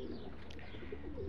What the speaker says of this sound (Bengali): এই যে দুটো কবুতর দেখেন